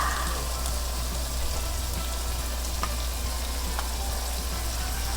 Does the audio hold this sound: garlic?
yes